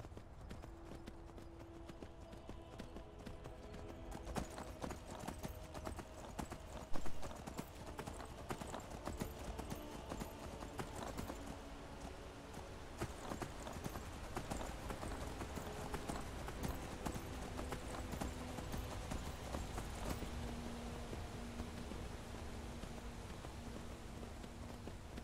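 Horse hooves clip-clop in a steady, even rhythm while riding along a road in Skyrim Special Edition, continuing throughout with faint rain-like patter and game ambience underneath.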